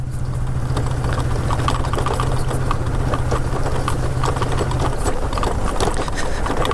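A motorcycle rides along a brick-paved village road with an overinflated front tire, giving a steady loud engine drone with constant rattling and bumping knocks from the wheels bouncing over the surface, close and continuous throughout.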